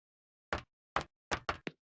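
A door in the 1996 educational game Jumpstart 3rd Grade, heard as five short, dry knock-like thuds, the first two spaced apart and the last three in quick succession, alone against silence.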